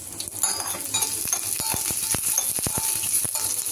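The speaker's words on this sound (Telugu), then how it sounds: "ఇంకా పప్పుచారుకి కొంచెం నెయ్యి వేసుకుని తాలింపుకి కరివేపాకు, ఎండుమిరపకాయ, కొంచెం ధనియాలు, జీలకర్ర ఇవన్నీ వేసి తాలింపు వేస్తున్నాను." Curry leaves, dried red chillies, coriander seeds and cumin crackle and sizzle in hot ghee for a lentil rasam tempering, a steady close frying hiss broken by sharp pops and a few utensil clinks, with no voices.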